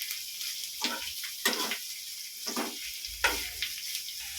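Onions and green chillies frying in a home kitchen pan, a soft steady sizzle broken by several scraping stirs, heard close with no talking.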